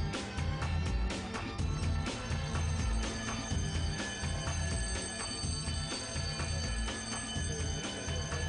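A fire station alarm bell rings continuously in a rapid metallic clatter, loud and unbroken throughout.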